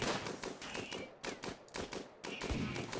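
Rimworld colonists fire a ragged fusillade of gunfire in bursts of rapid, sharp shots, with short pauses between volleys and one heavier boom near the end.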